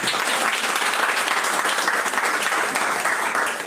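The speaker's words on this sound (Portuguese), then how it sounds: "E as palmas são bem fortes, amém, igreja?" A church congregation claps loudly and steadily for several seconds, a dense and sustained wash of applause with a faint voice beneath it.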